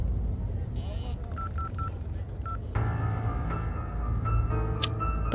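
Telephone keypad tones beep in a quick series, then a steady electronic line tone hums as the call fails to connect, all beneath background noise.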